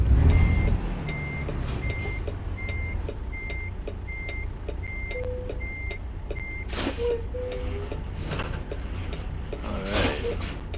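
Reversing beeps from a semi truck in American Truck Simulator pulse steadily about a dozen times over a low engine rumble, with an air brake hiss and other brief vehicle sounds near the end.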